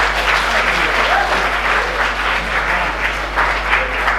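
Dense, steady applause from an audience at a road safety prize distribution ceremony as first prize goes to MP Shah Girls College, with a constant low electrical hum underneath.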